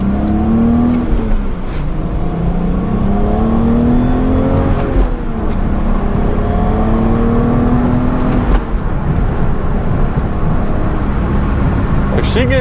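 A car engine revs loudly from close by, pitch climbing and falling through several rises over a steady running drone, with a person talking beneath it.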